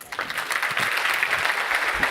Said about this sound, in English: can we get a big round of applause for Rick, please?